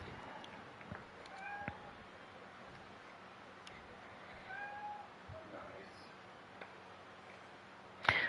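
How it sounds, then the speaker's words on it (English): A cat meows faintly in the background, a few short calls spread across a quiet room with low background hum. "If you could hear a cat in the background"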